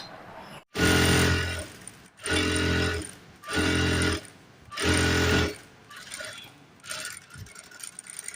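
A sewing machine in a tailoring shop stitches a blouse in four loud, sustained bursts of whirring, each a second or so long, separated by short pauses, then quieter handling noises after the last run.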